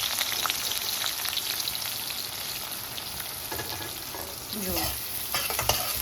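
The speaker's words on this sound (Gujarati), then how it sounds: "તો ખાલી જીરુંનો જ વઘાર કરું છું હું" Cumin seeds crackle and sizzle in hot oil for a tempering, a steady close frying hiss with a short word spoken near the start.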